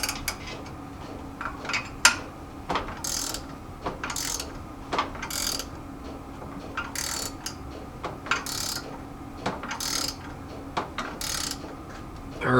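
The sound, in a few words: wrench tightening nut on power steering pulley installer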